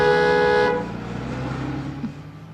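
Car horn blaring in one loud sustained blast that cuts off after under a second, leaving a low engine rumble and road noise.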